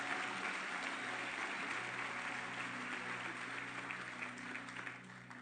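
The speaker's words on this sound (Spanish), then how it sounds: "Este es un buen momento para dar un aplauso" A church congregation applauds during a sermon, a steady, even wash of clapping that sounds fairly distant and soft and fades slightly toward the end.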